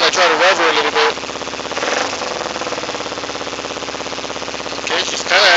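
A 2008 Kawasaki Ninja 250R with rev issues, its engine revving then settling into a rough, rapidly pulsing idle, loud and close, with brief speech near the start and the end.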